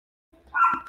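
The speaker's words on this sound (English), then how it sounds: "And I apologize for my dog's bark." A single short dog bark comes out of silence, a quick sharp yap that rises and fades within a second.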